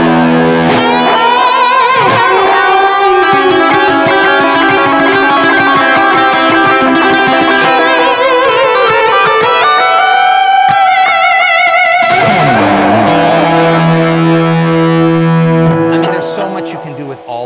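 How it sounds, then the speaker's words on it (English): An electric guitar plays through a Jared James Nichols signature Blackstar amp head and cabinet with distortion and a tape-style saturation effect, sustained loud chords and bends with a brief pause in the middle. "I'm gonna put on this distortion, and listen what this sounds like with the tape"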